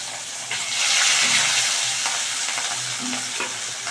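Rohu fish pieces frying in an oil-filled pan, a loud, continuous close sizzle with soft stirring movements running throughout.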